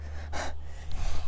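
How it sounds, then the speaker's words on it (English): A single sharp, breathy gasp or heavy inhale from a plush-puppet character, close and loud, followed by a brief snort-like breath in an otherwise quiet room. "Don't even start that breathing crap!"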